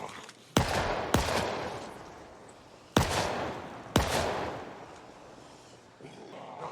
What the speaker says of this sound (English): the pistol's perfect for these zombies that are just slow and kind of all spread out